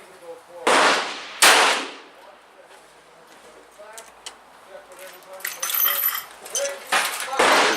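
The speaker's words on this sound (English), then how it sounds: "There's 5 shots." A .38 Special revolver fires 200 grain handloads at an outdoor range, with sharp loud cracks at a few spaced intervals and range chatter and movement between the shots.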